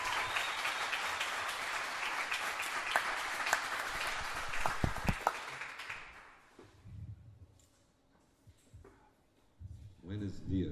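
Applause in a church service honouring Jesus, a dense burst of clapping for about six seconds that fades out, followed by quiet room noise and a few voices.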